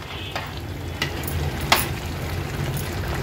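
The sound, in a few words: ghee added to boiling prawn rice in pot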